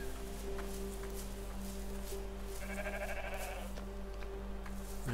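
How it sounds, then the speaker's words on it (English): Sheep bleat in the Rising World video game, a couple of wavering calls in the middle of the clip over a steady low hum of ambient game sound. "I hear sheep."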